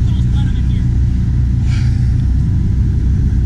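A Ferrari F12 supercar drives past, driven by a teenager, with a steady heavy low engine rumble throughout and a brief brighter swell partway through.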